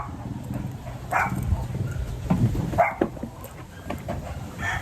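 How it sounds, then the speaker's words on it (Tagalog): Several dogs bark and yip in scattered short bursts at moderate distance, mixed with background noise. "Itong mga aso, no?"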